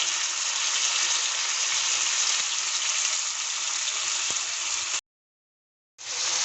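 Chopped tomatoes hitting a hot pan with cumin seeds and onion for a Bengali eggplant dish, giving a loud, steady sizzle that cuts off abruptly for about a second before the frying hiss resumes.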